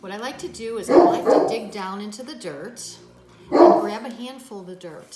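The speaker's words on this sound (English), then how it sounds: "excuse my dog, he always barks when I'm doing things like this." A dog barks in two loud bursts under steady talk while someone digs into potting soil to test whether it holds enough water.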